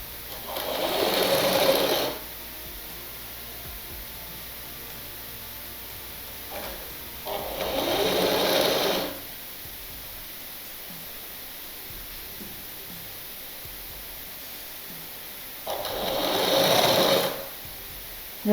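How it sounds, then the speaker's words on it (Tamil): Sewing machine stitching blouse fabric runs in three loud, steady whirring bursts of about two seconds each, separated by long quiet gaps, close up with no talking. "அப்படியே துணியை கொஞ்சம் கொஞ்சமாக சேர்த்து வச்சு தச்சிக்கிட்டே வர வேண்டியது"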